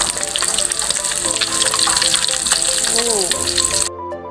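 Whole silver barb fish fries in a pan of oil with a loud, busy sizzle and crackle that runs continuously, then cuts off abruptly near the end.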